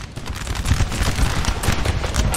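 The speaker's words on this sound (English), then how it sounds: "Some Russian artillery real nice and close." Russian artillery in Napoleon: Total War firing close by during a large line battle, a loud rolling clatter of overlapping cannon and musket bursts with no clear pause between them.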